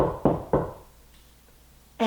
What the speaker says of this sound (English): one day a little boy knocked on the Queen's gate